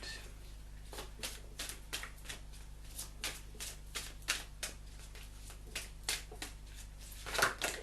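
Angel cards being shuffled by hand: soft, repeated riffling and slapping strokes in a loose rhythm, quiet and close, ending with a slightly louder flurry.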